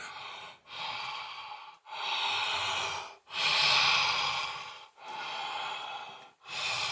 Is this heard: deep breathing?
yes